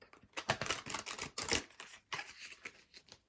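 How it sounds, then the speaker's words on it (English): Quick bursts of riffling and flicking, like playing cards being shuffled close up, several short rustling runs with brief pauses between. "they're telling me to open it and shuffle one more time just to cut the deck"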